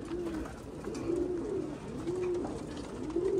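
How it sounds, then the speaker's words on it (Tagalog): Pigeons of the Capistrano Classic breed coo in rainy weather, with repeated low rolling calls rising and falling in a steady rhythm, close and fairly clear over a constant background hiss. "Ito talaga ibon na talaga, kalapate na talaga to."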